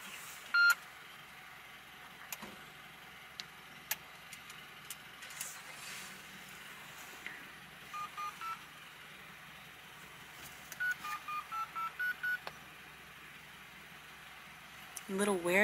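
A phone call fails to go through while a car engine idles, with groups of short electronic dialing beeps repeating at intervals and occasional quiet speech.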